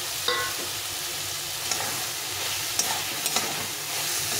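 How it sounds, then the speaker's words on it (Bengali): Soybean chunks fry with a roasted spice mix in a pan, giving a steady, close sizzle broken by a few light taps of a stirring spoon. No voices. "এই সয়াবিনটা কষা হয়ে গেছে, বেশ কিছুটা কষা হয়ে গেছে।"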